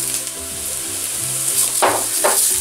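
Rice toasting in a pan with golden-browned onion for a wine risotto, a loud continuous sizzle with two short stirring scrapes near the end.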